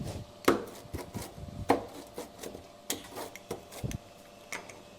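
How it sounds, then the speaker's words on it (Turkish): A freshly baked, browned pizza is cut into eight slices, giving a series of sharp crunchy chops and scrapes against the tray at an irregular pace, close and fairly quiet, with no talk. "tepsiden alıp pizzamızı 8 parçaya bölüyoruz"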